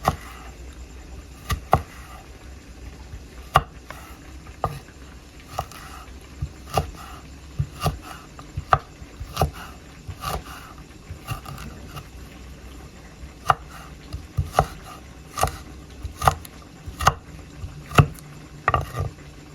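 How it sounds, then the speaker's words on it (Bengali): A knife cuts ginger pieces lengthwise on a board, sharp clean chops recurring at an irregular but steady pace, close and distinct over a quiet background. "এখন আদার টুকরোগুলো এভাবে লম্বা লম্বি ভাবে কেটে নেব।"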